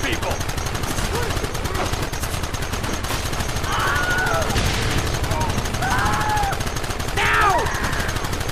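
Gunfire from a Wild West shootout in Red Dead Redemption, dense crackling shots running steadily throughout under shouted voices and whooshing effects.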